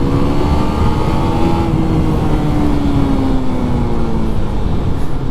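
A 2019 Husqvarna Svartpilen 401 motorcycle accelerates on the highway, its engine note rising steadily under heavy wind buffeting and road roar, loud and close throughout with no talk.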